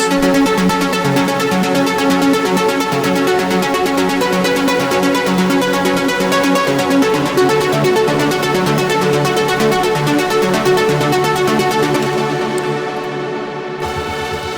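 Bright, gritty saturated synth plucks repeat in a quick trance pattern over a steady pulse in Ableton Live 10, loud and dense throughout, cutting off abruptly near the end.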